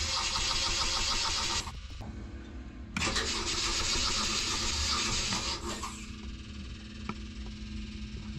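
A marine diesel generator engine being started: the starter cranks loudly, pauses briefly, then cranks again before settling into a lower steady rumble.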